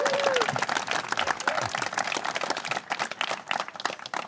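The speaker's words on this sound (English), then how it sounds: "So I'll clap for that." A crowd claps outdoors at a Mountains-to-Sea Trail western terminus marker unveiling ceremony at Kuwohi, dense continuous applause from many people, fairly close and lively, with a brief whistle-like tone near the start.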